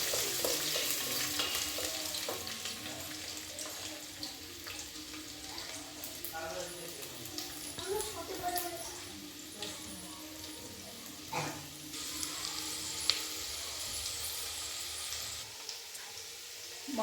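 Finely chopped garlic frying hard in a pan over high heat for a Chinese-style pasta: a steady, loud sizzle and crackle that runs throughout, with occasional stirring scrapes and clinks.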